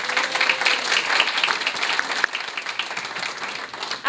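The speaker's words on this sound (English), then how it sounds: "Let's give them another round of applause." An audience at a public service awards ceremony claps steadily for about four seconds, a dense, even applause that tapers slightly near the end.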